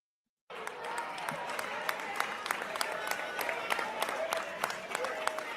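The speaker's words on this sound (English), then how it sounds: "the applause, the cheerment is all a form of agreement" An audience at a panel conversation breaks into applause with scattered cheering, a steady wash of clapping starting abruptly after a brief silence and carrying on evenly with occasional louder claps.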